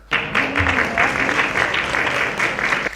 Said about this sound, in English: Give Ken a big round of applause